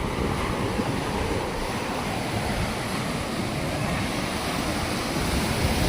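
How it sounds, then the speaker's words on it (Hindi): Sea waves roll onto the shore at Havelock's Kala Pathar beach, a continuous loud wash of surf mixed with wind buffeting the microphone, with no voices. "बहुत बड़ा बड़ा समुद्र का लहर किनारा तक पहुंच जाता है"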